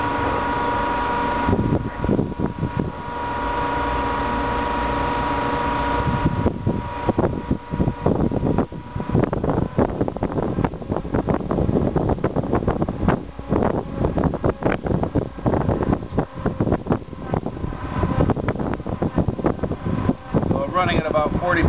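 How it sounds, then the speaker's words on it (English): A BestCode printer's ink tank motor runs steadily while circulating flushing solvent at about 40 psi, a continuous mechanical whir with faint fluid movement and clicking, heard under a man's speech. "So now you can hear the motor kind of moving along there. Some fluid movement inside of our ink tank."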